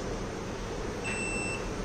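An electronic buzzer on a voice-controlled Bluetooth LCD notice board gives a single short, faint beep when the power supply is switched on, heard over a steady hum of room noise.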